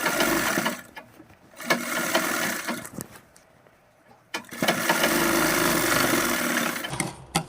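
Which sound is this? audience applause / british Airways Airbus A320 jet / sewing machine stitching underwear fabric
sewing machine stitching underwear fabric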